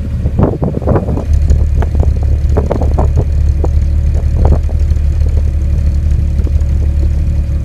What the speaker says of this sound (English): So there's the exhaust for you.